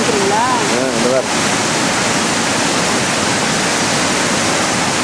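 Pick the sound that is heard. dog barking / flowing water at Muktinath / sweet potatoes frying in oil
flowing water at Muktinath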